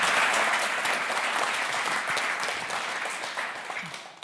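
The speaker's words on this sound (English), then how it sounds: "give a warm applause for Anna Libak." A conference audience in Copenhagen gives a warm round of applause for an arriving speaker: dense, steady clapping from a large crowd, loudest at the start and tapering slightly toward the end, with no voices over it.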